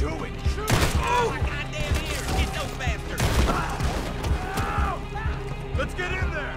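A Red Dead Redemption 2 shootout, with rapid rifle and pistol shots cracking close and overlapping in sharp bursts while characters shout over the gunfire.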